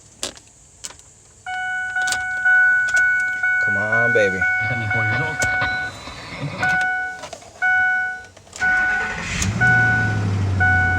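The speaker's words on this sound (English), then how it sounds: "let's see if the truck will start" A 2005 Ford F-150 truck with a newly installed starter cranks and then rumbles into a steady idle, with a faint warning chime and one or two voices talking over it.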